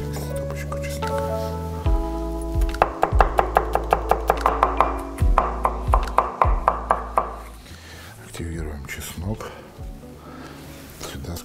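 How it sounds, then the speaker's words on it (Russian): Garlic being chopped on a board with a knife for Swiss fondue: a quick run of sharp, close knife taps in two bursts, with a steady background hum. "Нарезаем чеснок."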